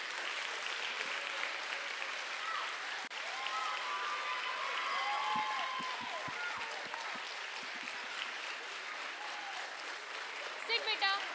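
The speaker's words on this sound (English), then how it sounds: "can we have a big round of applause for them?" Audience applause and crowd noise in a school hall as grade 7 students are called onto the stage at a production day celebration, a steady broad clatter of clapping lasting throughout, with a few voices and shouts mixed in.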